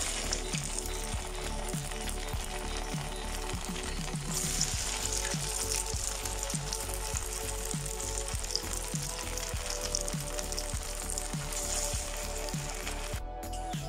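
Crispy rice vada frying in hot oil over a medium flame, a dense continuous sizzle with fine bubbling crackle and a few soft clinks from the pan, steady and close with no voices.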